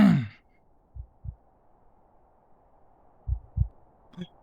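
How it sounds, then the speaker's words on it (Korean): A heartbeat thumps in the video game White Hell: two pairs of low, muffled lub-dub beats in a slow rhythm, clear against near silence after a brief breathy sound. "뭐야, 심장 소리."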